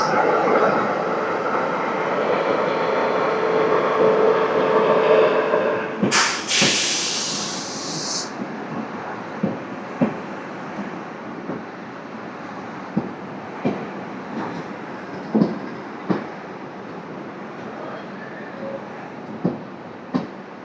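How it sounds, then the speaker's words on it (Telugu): The Dharmavaram Express pulls away from the station. A hiss and a brief high burst come early, then rhythmic wheel clunks on the rail joints repeat under a steady rumble, moderately close, with no talk. "ధర్మవరం ఎక్స్ప్రెస్ కూడా స్టార్ట్ అయిపోయింది."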